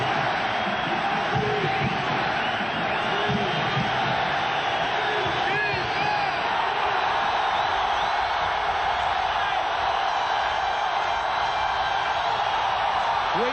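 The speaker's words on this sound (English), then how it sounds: "The crowd coming to its feet." Stadium crowd at an NFL game, New York Giants at Washington in 1997, swelling as fans rise on third and a yard: a dense, steady roar with scattered whoops throughout, loud and continuous, with no clear talk over it.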